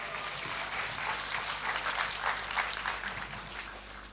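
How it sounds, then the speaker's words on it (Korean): A church congregation at a revival gathering claps warmly in steady, continuous applause that fills the hall at moderate volume throughout. "할렐루야로 뜨겁게 우리가 박수를 영접하겠습니다."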